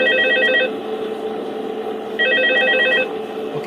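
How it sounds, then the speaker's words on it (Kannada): A telephone rings in the video game Five Nights at Freddy's 2, sounding two long bursts of electronic trilling separated by a short pause over steady background hum. "ಯಾರ್ದು ಫೋನ್ ಉಂಟು?"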